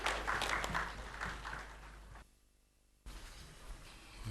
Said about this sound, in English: Shall we give him a round of applause, please?